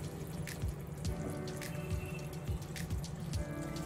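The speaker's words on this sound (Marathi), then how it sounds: "त्यामुळे आपल्याला पाणी अगदी थोडं टाकायचं." Water pours and splashes continuously from a tap into a vessel, with small drips and clinks, close and moderately loud, no voices.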